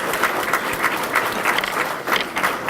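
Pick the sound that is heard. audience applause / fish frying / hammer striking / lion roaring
audience applause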